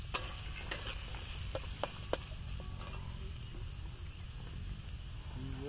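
Onions stirred and frying in a pan for pork curry in a village kitchen, a soft steady sizzle beneath several distinct scraping clicks of the spoon against the pot, close and fairly quiet.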